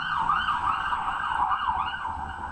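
On a New York City street, a passing emergency vehicle's siren wails loudly and steadily, rising and falling in a continuous sweeping tone over faint traffic rumble.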